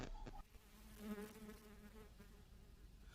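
A housefly buzzes near a pipe in a Breaking Bad scene, a steady close drone that wavers in pitch for a few seconds, with a brief sharp knock at the very start.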